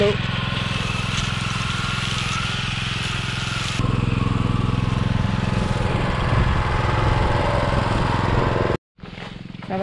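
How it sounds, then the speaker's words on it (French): An olive harvesting machine with rakes spinning at very high speed, a loud continuous engine drone with rattling texture near the operator, shifting pitch midway before a brief dropout and return. "Ils les font tomber grâce à des machines. C'est comme des râteaux tournants à très haute vitesse."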